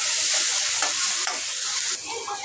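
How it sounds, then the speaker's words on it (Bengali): Ginger-garlic paste fries and sizzles in a pan for a Bengali home-style meal while a spoon stirs it. A steady, close hiss runs throughout, broken by a few soft scraping strokes of the stirring. "আমার আদা রসুন ভাজাটা হয়ে গেছে"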